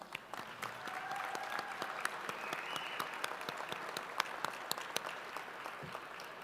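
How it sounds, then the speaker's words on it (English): Scattered, moderately faint applause from a gala audience honoring sponsors at a Michigan small business celebration, steady for several seconds with sharp individual claps standing out. "Please join me in a round of applause for all of our gala sponsors."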